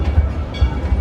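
An authentic steam engine pulling a ride train at Six Flags Over Texas rumbles past with a low, heavy chugging and rhythmic rail clatter, loud and close, in a brief burst without speech.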